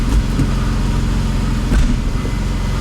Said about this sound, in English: It sounds like the drive shaft